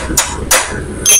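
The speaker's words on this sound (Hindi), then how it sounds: "पहले टी-हैंडल की मदद से इनको थोड़ी सी चोट लगाऊंगा।" A T-handle strikes the magnet plate nuts on a Honda CD 70 motorcycle engine. Three sharp, loud metallic taps ring out close up at uneven intervals, each ringing briefly.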